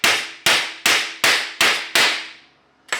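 Hammer strikes on automotive car body panels being fitted before MIG welding: six sharp, evenly spaced metallic blows ringing out loud and close, a short pause, then a seventh strike, with no talking.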